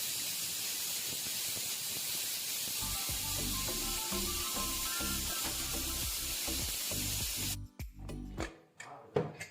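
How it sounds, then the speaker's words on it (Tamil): A pressure cooker hisses loudly and continuously while cooking a village-style country chicken curry, rising into a pulsing, rhythmic whistle before cutting off into bursts of escaping steam, close and alone with no talking. "குக்கரை க்ளோஸ் பண்ணி வச்சிட்றேன். இது ஒரு 4 சவுண்டு வரட்டும்."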